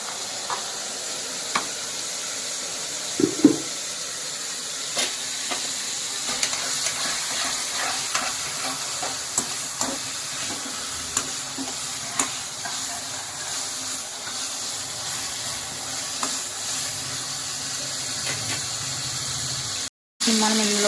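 A chapati cooking on a hot pan, giving a steady close hiss and sizzle with occasional small taps and clicks throughout, and a brief gap near the end.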